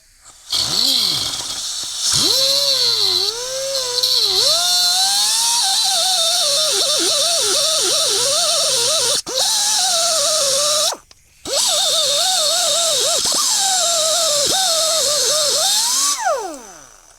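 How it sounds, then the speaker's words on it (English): An angle grinder cleans up a custom metal bracket for a DRZ4S motorcycle USB charger mount, giving a loud, continuous whine whose pitch wavers under load, with two brief stops partway through before spinning down at the end. "just an angle grinder here, and just clean up the rest of it"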